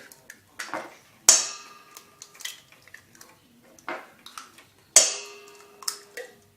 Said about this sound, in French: je casse d'abord mes 3 œufs dans la cuve